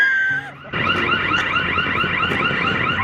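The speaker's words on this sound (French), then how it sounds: "il y a l'alarme qui s'est enclenchée" A car alarm goes off close by, starting with a brief tone and then settling into a loud, rapidly warbling siren pattern that repeats steadily without pause.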